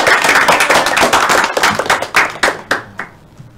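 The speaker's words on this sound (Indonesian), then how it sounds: "tepuk tangan semuanya" A classroom of students claps for a classmate after his microteaching presentation in a social studies education class. The clapping is loud and dense at first, then thins to scattered, separate claps that fade out.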